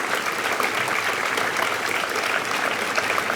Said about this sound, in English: A round of applause for the effort and contributions, please.